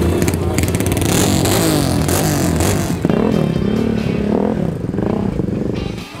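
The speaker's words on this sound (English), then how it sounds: "Look at this awesome machine, a six cylinder 1979 Honda CBX" A six-cylinder 1979 Honda CBX motorcycle engine runs loud and close, with rising and falling revs and some mechanical clatter over a busy outdoor background.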